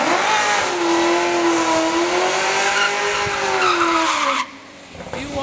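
An 800 hp Chevrolet Camaro ZL1 on a race track roars loudly at high revs with squealing tires, its engine note climbing steadily before dropping off abruptly near the end.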